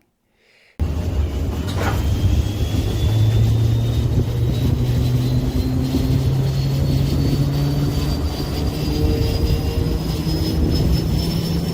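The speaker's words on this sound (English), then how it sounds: "These operational noises include things like engines spooling up," After a moment of silence, a loud, steady aircraft engine roar sets in, with a whine that slowly climbs in pitch as the engine spools up.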